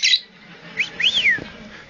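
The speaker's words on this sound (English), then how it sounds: "Hey, parrot. Soft bird." A pet parrot calls up close, giving a sharp squawk and then a few bright chirps and swooping whistles. Quiet gaps separate the calls.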